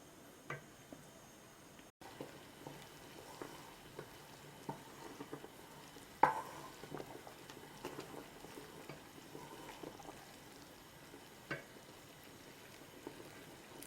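Quiet bubbling and soft sizzling of thick blueberry jam boiling in a pot, with occasional scraping taps of a spoon stirring.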